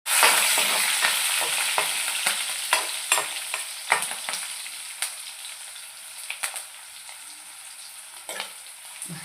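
Onion fries in oil with fenugreek seeds, a loud crackling sizzle that fades gradually, broken by sharp spatula scrapes and stirring knocks at irregular intervals, no talking.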